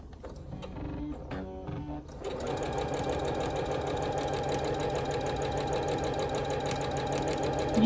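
A sewing machine stitches half square triangle quilt pieces corner to corner, starting after a few taps and then running in a steady, fast mechanical rhythm close by, with a voice talking over it.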